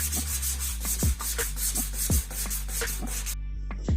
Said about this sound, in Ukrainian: Після цього я зачищала від лаку наждачкою старий лак з поверхонь.